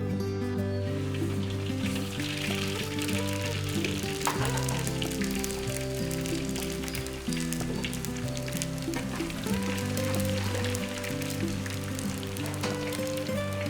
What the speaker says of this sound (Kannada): ಎಣ್ಣೆ ಕಾದಿದೆ, ಈಗ ಸಾಸಿವೆ ಜೀರಿಗೆ ಹಾಕೊಳ್ಳೋಣ.